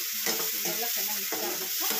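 A spoon scrapes and stirs gobi fry ingredients in a pan, with quick rhythmic strokes over a soft sizzle, close and fairly quiet.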